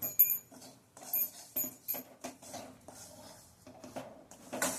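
Semolina roasting in a tempering in a pan over medium heat, with a metal spoon scraping and clinking against the pan in uneven bursts, close and fairly loud, with short pauses between strokes.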